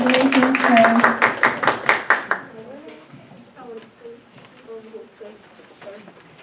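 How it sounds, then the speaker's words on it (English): A room at a board meeting applauds award winners, a burst of clapping for about two and a half seconds that quickly fades into quieter scattered sounds and soft talk. "A big round of applause for our Mandarin Master winners."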